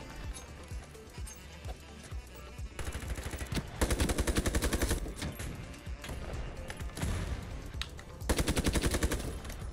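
Rapid bursts of M4 rifle fire in a shooter game, rattling automatic volleys in several rhythmic strings of shots, close and loud, separated by quieter stretches of movement and footsteps.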